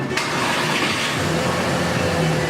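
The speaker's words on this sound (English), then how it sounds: "Now I gotta see what it sounds like with no muffler on the back." A VW Passat engine runs with the rear muffler removed, producing a loud, steady exhaust drone throughout at close range, with no talking over it.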